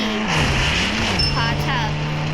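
Ferrari engine in the Indian Bike Driving 3D game, a loud synthetic engine tone rising and falling in pitch as it revs, with a brief tire squeal partway through, under constant talk.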